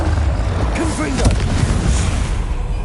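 Confringo blasting spell cast in Hogwarts Legacy, a burst of booming explosive impacts over a dense rumbling game soundscape, with a voice speaking over the blasts.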